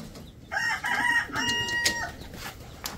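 Chickens kept in a cage cluck, and a rooster crows once nearby, a short, fairly faint crow with a few clucks around it against quiet background noise.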